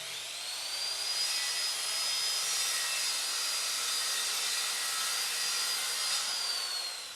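A circular saw trims a homemade plywood and hardboard edge guide: one steady, close, loud whining cut lasting several seconds, with no talking.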